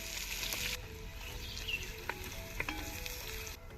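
Shallots, ginger and garlic fry in hot oil in a pan for a Kerala-style fish curry, making a continuous, fairly quiet sizzle with a few soft stirring taps and no talking.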